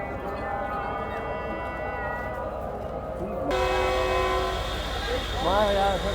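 Sukkur Express passenger train standing at a station, with a steady low rumble of engine and railway noise and sustained horn-like tones, loud and close.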